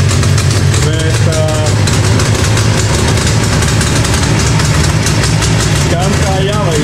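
A Jawa motorcycle engine idles steadily with a low, rumbling throb throughout, while people talk over it.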